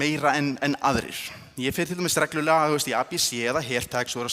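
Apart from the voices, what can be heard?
No distinct noise like a dog, phone or traffic.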